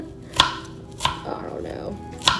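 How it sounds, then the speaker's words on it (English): A knife chops through a bundle of cilantro on a board, three crisp, sharp cuts spaced unevenly, with a soft rustle of leaves between them. "I just kind of like bundle it all together and then just chop"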